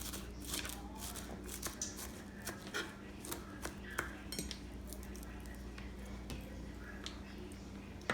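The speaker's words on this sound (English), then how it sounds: "Chop it as fine as you can get it." Rapid, irregular knife taps chopping cilantro on a cutting board, crisp close-up clicks over a quiet low hum, with no talking.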